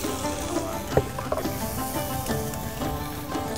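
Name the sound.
garlic stir frying in oil in a pan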